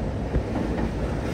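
Brief, continuous rumble of an intercity express train rolling across the Penna river bridge near Nellore, close and steady wheel-on-rail noise heard from aboard.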